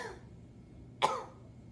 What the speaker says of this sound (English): Look this way and cough.